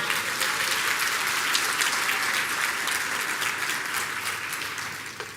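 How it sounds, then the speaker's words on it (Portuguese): A church congregation applauds the Lord, a dense, sustained wash of clapping from many hands that fades slightly toward the end. "Pode dar uma salva de palmas ao Senhor?"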